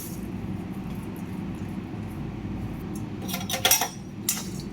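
Dry poha flakes tipped into a hot pan and stirred with a metal spoon for dry roasting, giving a steady low sizzle with a few sharp clinks and scrapes of utensil on pan near the end.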